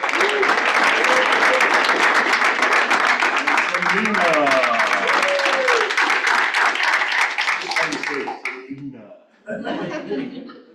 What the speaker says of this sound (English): save the applause to the end